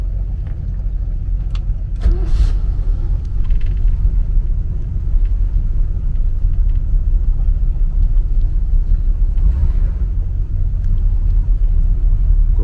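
The second engine on a classic Trojan 37 sport fish yacht turns over with a short crank and catches. It joins a steady, heavy, low idling rumble that carries on loud and close.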